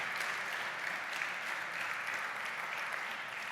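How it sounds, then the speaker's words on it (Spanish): Congregation applauding during a church sermon, a dense, even wash of clapping from many hands sustained throughout, with no talk over it. "Denle un aplauso al Señor"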